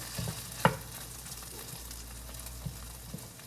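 A sweet potato mixture being stirred in a pan, one sharp knock of the utensil followed by soft scraping and faint sizzle, close and brief.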